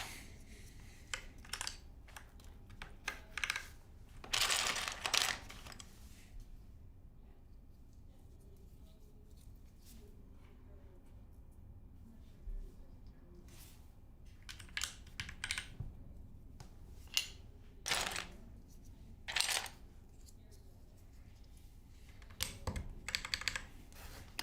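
Typing on a Foraz Signature Hope custom keyboard, quiet clustered keystrokes in short bursts separated by pauses, with a few louder runs of rapid presses, close up and alone.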